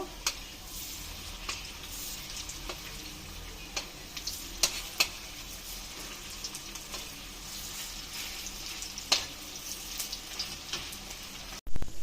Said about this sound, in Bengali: একটু লাল লাল করে ভেজে নেব। একটা পিঠ হয়ে গেছে, এখন আমি একটু উল্টিয়ে নেব।